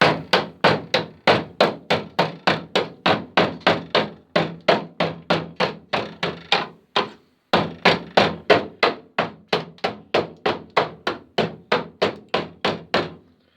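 Rusty inner sill metal being cut off an Austin car, heard as a close, loud run of rapid regular hammer-like blows, a steady rhythm with one brief pause midway and no talk.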